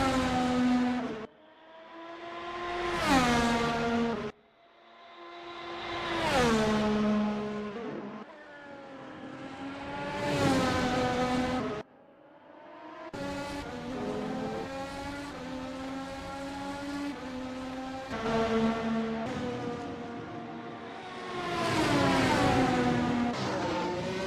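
Race cars in a racing video game at Interlagos roar past in a series of loud engine sweeps, each rising and falling as it speeds by, with repeated revving and gear changes over about twenty seconds.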